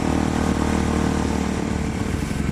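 A Kawasaki KLX motorcycle engine runs steadily as it putts through town, with a continuous loud, close drone and no speech over it.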